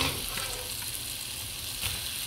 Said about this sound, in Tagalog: Lagyan na natin yung ating ulo ng salmon.